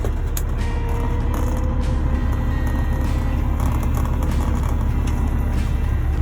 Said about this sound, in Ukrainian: Так, друзі, запускаємо привід ВОМа.